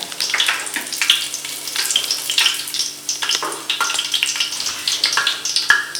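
Whole spices such as cinnamon, clove, fennel and cardamom frying in oil and ghee for biryani, crackling and popping closely in irregular bursts over a constant sizzle.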